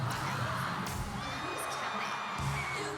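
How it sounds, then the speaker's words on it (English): A crowd at a cheerleading world championship cheers and whoops, a steady wash of distant voices with scattered shouts. "listen to the crowd."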